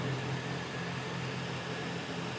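Air coolers and fans run together in a hall, making a faint, steady whirring hum with a low drone underneath and no voices.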